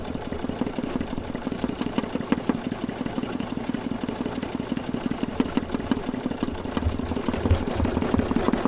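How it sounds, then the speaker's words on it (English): An embroidery machine, slowed below normal speed, stitches a design onto the base of a rope bowl with a steady, rapid mechanical chatter throughout. "it's going to take me 13 minutes to stitch this out"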